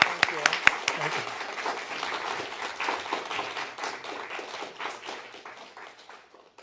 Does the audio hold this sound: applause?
yes